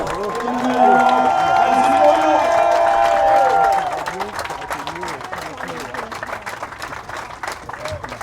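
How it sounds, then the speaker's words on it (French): A crowd claps and cheers for the arrival of the IMOCA sailboat Elena 5 at the finish of an ocean race, loud and sustained, with an amplified announcer's voice carrying over the first few seconds. "J'aimerais, s'il vous plaît, un peu d'applaudissement encore"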